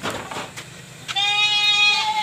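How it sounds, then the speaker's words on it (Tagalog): Pet goats bleating on a farm: a sustained, loud, strongly voiced bleat fills the second half, preceded by softer animal noise and rustling. "sa ating mga alagang kambing"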